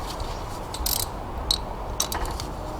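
A ratchet wrench tightens a spark plug on a Ford 3.5L DOHC Cyclone engine, giving a few short, close metallic clicks spread across a quiet background with no voice.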